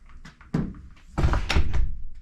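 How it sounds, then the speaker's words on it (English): A walk-in cooler door shut with a couple of solid thunks, the main closing slam loud and near, followed by rattling and settling knocks. "Shut the door."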